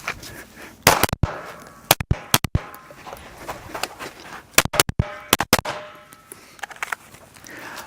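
Gunshots fired at shooting targets during a timed drill ring out as sharp, loud cracks. Some come singly and others in quick pairs and bursts, with pauses and footsteps between them and brief faint voices.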